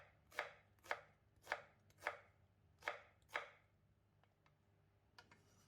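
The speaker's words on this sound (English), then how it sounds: "cut 100 grams of yellow onion into wedges" Knife chopping yellow onion into wedges on a board: six crisp, evenly spaced cuts in a steady rhythm, close and clear, followed by a few faint taps and a quiet pause.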